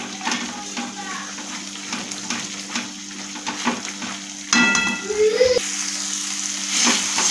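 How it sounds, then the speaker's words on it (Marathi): Puree of two tomatoes frying in oil for a dhaba-style dum aloo, a steady crackling sizzle with repeated spoon taps and stirring clinks, growing louder midway as more goes into the pan, and a voice briefly speaks. "टमाट्याची प्युरी आहे, ती आपल्याला व्यवस्थित तळून घ्यायची आहे।"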